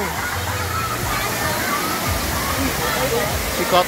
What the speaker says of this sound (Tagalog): Sikat na Balagbag Falls dito sa Real, Quezon.